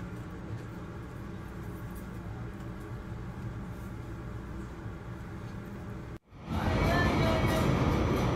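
Steady low rumble and rattling from inside a moving subway car, briefly dropping out before returning louder and harsher.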